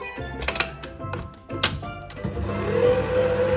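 An electric mixer works through sweet bread batter with beaten eggs, a close, buzzing whir broken by a few knocks and taps against the bowl before settling into a steadier hum.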